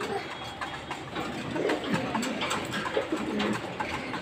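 Several pigeons coo softly and repeatedly at close range, their low throaty calls overlapping against a steady indoor background.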